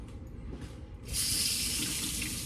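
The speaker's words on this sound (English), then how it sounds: "Wash our hands off." Hands are washed under a running kitchen tap after working with bread dough and butter; the water starts suddenly and then runs as a steady, close rush.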